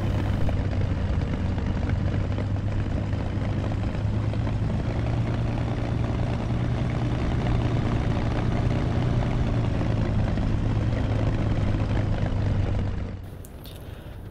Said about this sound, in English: push the throttle forward to increase the RPM up to 1000 or less